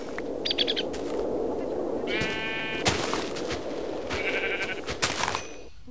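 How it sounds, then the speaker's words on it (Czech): Sheep in the Minecraft video game bleat three times in short wavering cries, spread across a steady background hum of game ambience, moderately close. "Tady je ta ovečka a kravička."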